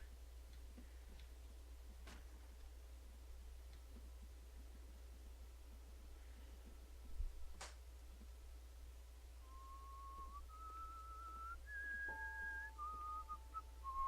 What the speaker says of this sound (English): Creepy whistling.